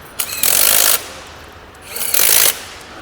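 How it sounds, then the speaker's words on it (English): An impact gun hammers on a grade 8.8 bolt during railway axle box overhaul in two loud, rattling bursts of about half a second each, separated by a short pause, close and harsh. "We are tightening the bolt using the impact gun"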